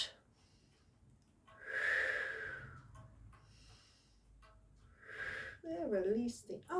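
During a seated upper-body yoga stretch, two slow, audible breaths rise and fall close to the mic, each drawn out for about a second, followed by a brief breathy voiced sound.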